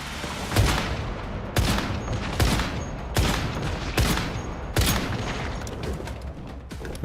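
Bursts of gunfire from the video game Once Human come in five loud, evenly spaced volleys roughly every second and a half, each a sharp crack with a ringing tail over steady background game ambience.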